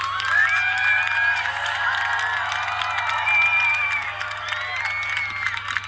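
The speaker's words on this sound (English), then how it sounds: "Everyone applauding and cheering because they know that it has been the end of totality." A crowd outdoors applauding and cheering at the end of solar eclipse totality, with continuous clapping, whoops and scattered shouts from many people at middle distance, and voices mixed in.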